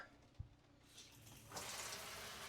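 Shower water from an off-grid pump setup in a camper runs with strong pressure, a broad steady hiss that swells louder after a soft start, preceded by a brief knock.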